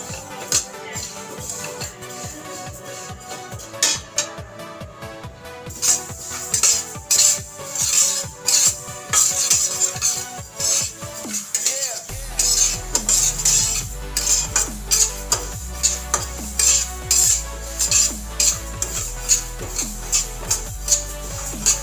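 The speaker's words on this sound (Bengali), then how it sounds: "এই সময় কিন্তু অনবরত ডালটাকে নাড়াচাড়া করতে হবে, না হলে ডালটা পুড়ে যাবে," Moong dal is stirred constantly as it dry-fries in a wok, a busy scraping and rattling of spatula against metal in quick repeated strokes, with a low hum joining partway through.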